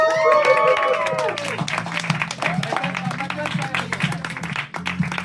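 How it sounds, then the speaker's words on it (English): Audience applause at a stand-up comedy show, a dense burst of clapping with whoops that holds steady for a few seconds, close and loud, with a voice calling out over it at the start. "a big round of applause for Layla!"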